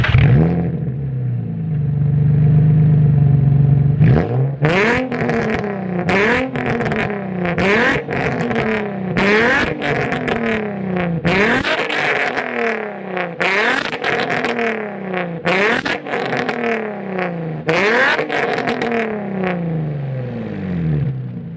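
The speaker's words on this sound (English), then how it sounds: "we're gonna give it a couple revs" Nissan 350Z four-door fitted with a new engine, idling briefly and then blipped through a long series of sharp revs, each rising and falling whine repeated rhythmically, loud and close, with no talking.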